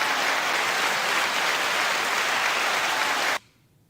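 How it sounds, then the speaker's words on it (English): Steady, dense applause fills a hip hop media show segment, loud and continuous before cutting off abruptly near the end. "9-second applause"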